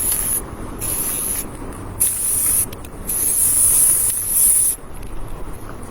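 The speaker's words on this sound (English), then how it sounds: "spray paint just a little bit around your planet so you know where they're going to be" Black spray paint hissing from an aerosol can in short bursts, several sprays separated by brief pauses, close and loud with no talking.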